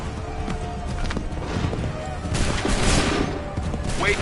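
Scattered musket volleys pop across an Assassin's Creed 3 battlefield, mixed with hoofbeats and running, steady crowded combat din with shouted orders over it.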